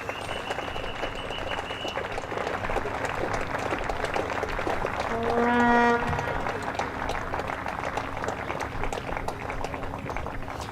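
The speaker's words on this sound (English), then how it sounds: "we'll listen to the applause for a very," Spectators applaud Hassan Azad's innings of 152 off 260 balls as he walks off at a Leicestershire v Sussex County Championship match, steady broad clapping spread across the ground, with a vuvuzela-like horn blast sounding midway.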